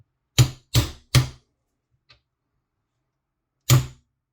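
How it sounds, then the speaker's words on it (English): A metal punch struck against an angle grinder's locking nut, four sharp close taps, three in quick succession and a fourth after a pause, with a faint tick between. "just give it a tap in the right direction to loosen it"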